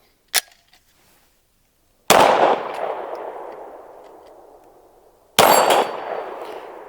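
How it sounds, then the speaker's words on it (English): A Derya DY9 shotgun fires Range Dynamics ammunition and suffers a failure-to-extract jam: a faint early report, then two loud, sharp blasts a few seconds apart, each ringing out with a long metallic decay. "Oh, we had one jam on it. A failure to extract."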